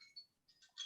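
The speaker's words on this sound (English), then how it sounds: "Oh, that's my alarm." An alarm rings with a few short, bright electronic tones, faint and brief, and no talk over it.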